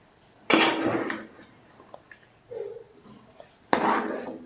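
Beef biryani is tossed and stirred in an uruli vessel, giving two loud scraping, clattering bursts of metal and rice with a softer clink between them and faint speech in the pauses.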